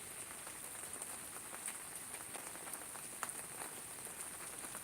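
Steady rain falls with a constant wash of patter and scattered sharp drops hitting surfaces, faint and continuous, with no talking.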